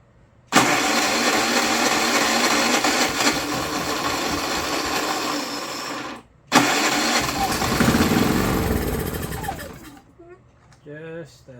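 A Predator 3500 watt inverter generator engine starts and runs loudly for several seconds, cuts out briefly, catches again, then dies away, with someone speaking near the end.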